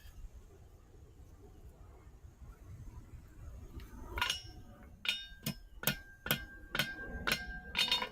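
Hammer blows ring out on a chain link being forge welded, first a single strike and then a steady run of about seven sharp metallic hits with bright ringing overtones, close and loud over a low workshop rumble.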